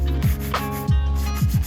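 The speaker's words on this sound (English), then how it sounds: "I used a 220 grit sanding block to smooth any repairs" A 220 grit sanding block is rubbed over wood furniture in several quick back-and-forth strokes, close and fairly loud, a rhythmic scratchy rasp with no talking.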